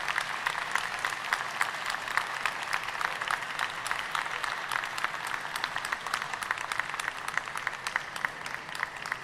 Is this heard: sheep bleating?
no